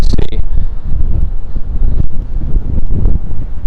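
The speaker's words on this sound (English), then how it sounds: "the wind is really, really picking up now" Strong gusty wind buffets the microphone on a New York City street, a loud, rumbling, uneven roar that surges and dips throughout, with no talk.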